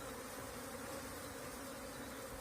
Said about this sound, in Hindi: दोनों हाथों में मैंने मधुमक्खी का पकड़ के लाई है